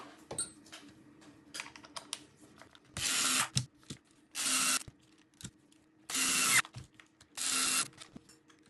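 Power driver sinking screws to mount the shock tower on a Team Associated RC8B4.1 RC car, four separate loud bursts of whirring separated by small clicks and handling of parts.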